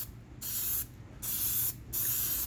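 Three bursts of aerosol Plastidip spray from a can, each about half a second long with short gaps, loud and close with a broad hissing rush. No voices.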